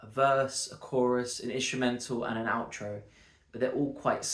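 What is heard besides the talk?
No everyday noise stands out behind the speech.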